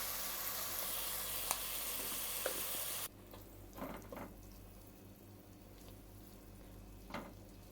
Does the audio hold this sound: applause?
no